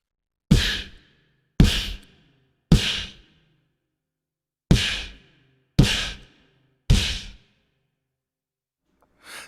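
Six crisp, breathy beatbox snare hits made with the lips, a P sound pushed with air out the side of the mouth, spaced irregularly with silence between, close and loud, plus a seventh starting at the end. A voice imitating a snare drum.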